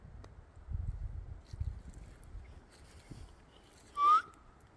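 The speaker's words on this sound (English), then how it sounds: "That's me whistling" A person whistles once for dogs in a quiet Oregon forest, a single short rising whistle near the end, standing out clearly over faint wind and soft rustling.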